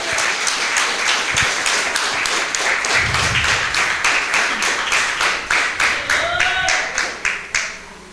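A church congregation claps loudly in rhythmic unison to welcome a missionary, a steady fast beat of many hands filling the room and running throughout, slowing slightly toward the end.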